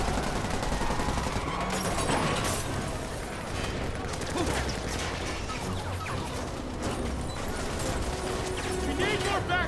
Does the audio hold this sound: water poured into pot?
no